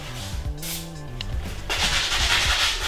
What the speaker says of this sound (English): Let me do a test spray on the ground.